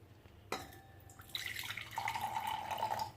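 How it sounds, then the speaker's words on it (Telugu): Ingredients are washed in water for a pulihora paste: a quiet trickle and splash begins, then water runs and clinks against a vessel, close and faint. "ఇందులో కొంచెం వాటర్ పోసి పైన ఇలా శుభ్రంగా కడగండి."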